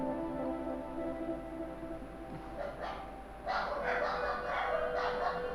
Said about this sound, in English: And sorry about that dog voice, if you can listen.